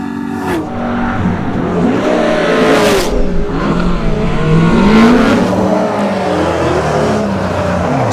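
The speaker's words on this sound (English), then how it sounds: "driving the mighty Commodore up the road" Commodore race car accelerating up a hillclimb course at a lakeside motorsport event, its loud engine revving steadily with rising and falling pitch through gear changes over several seconds.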